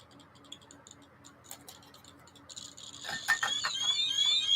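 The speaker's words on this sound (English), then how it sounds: "Both of them are doing the alarms now" Two Radiacode radiation meters tick rapidly at first, then a shrill electronic alarm tone rises and grows louder over the clicking, both devices close to the microphone.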